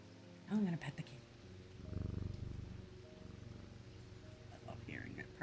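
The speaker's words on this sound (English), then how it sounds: "I love hearing it purring" A pet cat purrs while being stroked, a faint low rumbling pulse that rises and falls over several seconds, with a person talking quietly at the start and end.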